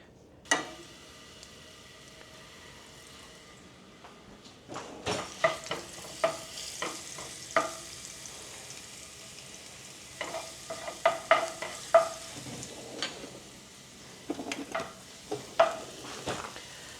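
Garlic sizzling and being stirred in a preheated pan with olive oil, a steady low fry broken by repeated sharp scraping and clinking strokes of a utensil, fairly close and with no talk.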